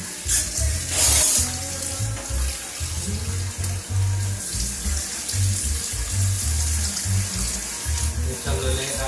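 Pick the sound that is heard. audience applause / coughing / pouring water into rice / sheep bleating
pouring water into rice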